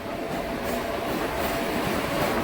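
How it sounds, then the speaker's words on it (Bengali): A Ranaghat–Amghata EMU local train pulls out of Digngar station with a loud, steady, close rumble of wheels and carriages and no voices. "দিগনগর রেল স্টেশন ছেড়ে বেরোচ্ছে আমঘাটা লোকাল"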